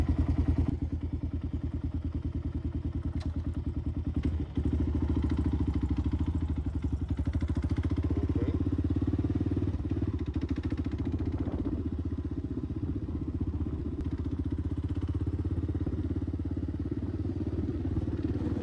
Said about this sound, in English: Give it some choke. All right, first ever ride on the KLR.